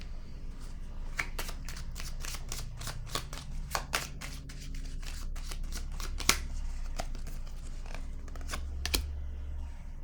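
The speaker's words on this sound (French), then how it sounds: "Je vais déposer une carte sur récompense." Tarot-style cards being laid down and handled during a card reading, a string of crisp, quick paper snaps and slides at close range, scattered irregularly with a low background hum and no talking.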